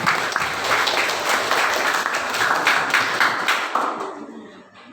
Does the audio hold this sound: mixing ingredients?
no